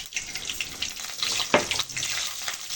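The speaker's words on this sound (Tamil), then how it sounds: "கடுகு போட்டுக்கலாம்" Mustard seeds crackling in hot oil, a dense close sizzle full of rapid tiny pops and one sharper burst, with no voices.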